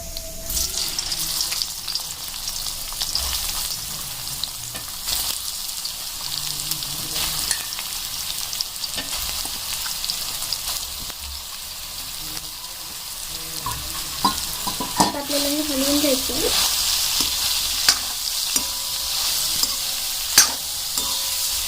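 Soybean chunks fry in hot oil in a kadai for a soybean-potato bhaji, giving a steady, close sizzle throughout with occasional spatula scrapes and a brief tonal whine partway through.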